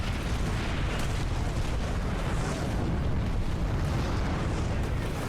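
Naval gunfire from warships in the strategy game Hearts of Iron 3, heard as a dense, continuous roar of rumbling blasts and booms with no clear gaps.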